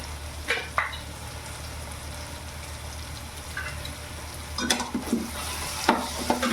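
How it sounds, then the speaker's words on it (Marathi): Masala with turmeric frying in a pan for a val bean recipe, a steady low hiss broken by a few spoon scrapes and stirring clatters, heavier toward the end, nearby. "मसाला शिजून द्यायचा त्याच्यात लगेच नाही टाकायचा"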